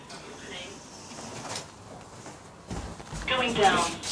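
ThyssenKrupp machine-room-less lift door at Ballymena train station sliding open, a soft mechanical rumble building to a louder whoosh in the second half.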